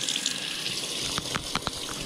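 Tap water running into a sink to rinse out a gutted char fish, a steady close splashing stream with a few sharper splashes near the end, no voices.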